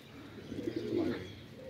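A short, soft, low pigeon coo rolls out once over faint background hiss, fairly close by.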